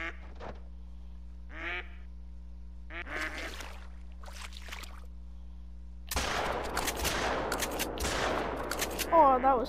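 Duck hunting in a video game with a Labrador retriever: a few sparse sounds give way to a dense burst of shotgun fire mixed with quacking and honking ducks, loud and busy, with occasional voices early on.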